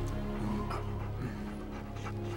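A dog in an animated film pants in quick, rhythmic breaths over a dense, steady bed of music and background sound, close and moderately loud.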